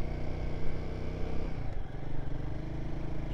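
Royal Enfield Guerrilla 450 motorcycle engine labouring up a steep hill in second or third gear around 3,000 rpm, a steady close, loud mid-pitched engine drone that continues throughout with a brief dip partway.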